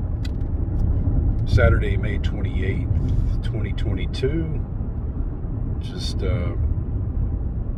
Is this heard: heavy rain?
no